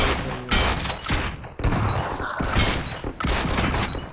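Gunfire in a video game erupts in loud, close bursts, several sharp volleys separated by brief gaps, with no voices over them.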